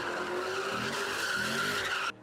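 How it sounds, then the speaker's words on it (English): At a street sideshow, a car drifts in circles, its tires squealing in a loud, sustained screech with a rising engine roar for about two seconds before it cuts off abruptly. "Neighbors called police because they heard this, a sideshow."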